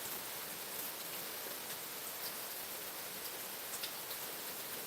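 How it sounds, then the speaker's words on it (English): Rain pours steadily on a quiet Sunday morning, a continuous broadband patter with occasional louder drips and ticks standing out from the wash. "listening to the rain"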